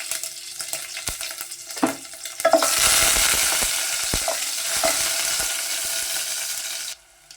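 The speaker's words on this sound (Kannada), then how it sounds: "ಎಣ್ಣೆ ಕಾದ ನಂತರ ಸ್ವಲ್ಪ ಸಾಸಿವೆ, ಜಜ್ಜಿಟ್ಕೊಂಡಿರೋ 1 ಬೆಳ್ಳುಳ್ಳಿ, 1 ಮೆಣಸಿನ್ಕಾಯಿ" Oil crackles and sizzles loudly as mustard seeds, crushed garlic and a chilli fry, a steady hiss lasting several seconds with a few stirring knocks before it cuts off.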